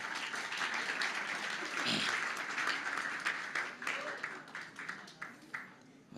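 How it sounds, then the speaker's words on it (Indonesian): A church Christmas gathering's audience claps in a dense burst that thins toward the end into scattered, separate claps, with some voices mixed in. "Kasih tepuk tangan dulu dong."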